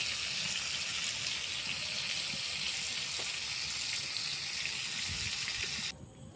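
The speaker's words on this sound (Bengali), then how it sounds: "একটু বেশি করে ভাজবো লাল লাল করে মানে কর করে ভাজা" Prawns fry in oil with a loud, continuous hiss that fills the space, even and close, then drops away abruptly near the end.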